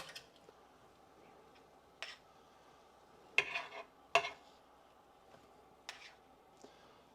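Fajita vegetables being pulled from a Ninja Foodi air fryer oven in a home kitchen: a few sharp metallic clanks and scrapes of a tray or utensils against pans, separated by quiet pauses, with a faint low sizzle beneath.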